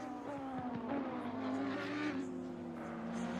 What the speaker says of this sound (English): Albon Petit has spun yet again.